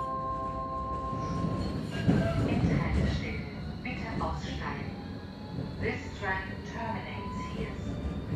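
A train pulling away and running along the track in a radio drama, with a loud low rumble, screeching metallic tones and clattering, and indistinct voices mixed in.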